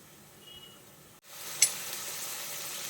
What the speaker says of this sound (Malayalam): ഇതൊക്കെ നമുക്കൊന്ന് ചെറുതായിട്ടൊന്ന് ഫ്രൈ ആയിട്ട് കിട്ടണം